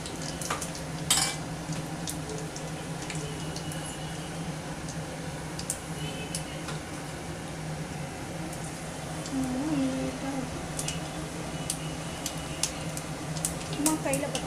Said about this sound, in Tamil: வெந்தயம், சீரகம் தாளிச்சு